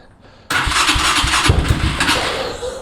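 A cheap used motorcycle engine cranks and catches abruptly, then runs loud and rough close by with an uneven, sputtering idle.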